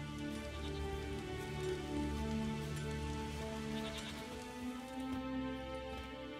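Steady rain from The Witcher 3: Wild Hunt, an even, continuous patter that lasts throughout, layered over sustained tonal game ambience with no voices.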